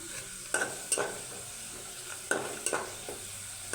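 Sliced onions frying in oil for beresta, a steady sizzle broken by several sharp spatula scrapes against the pan, close and clear, with no voices.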